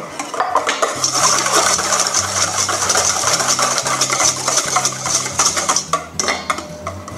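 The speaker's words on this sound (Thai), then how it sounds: "เราก็ค่อยๆเติมน้ำมันลงไปนะคะ แล้วก็ตีลงไปด้วย" A whisk clatters steadily and rhythmically against a bowl as oil is slowly added to a lime cream sauce for fried shrimp, a close, busy metallic stirring that continues throughout.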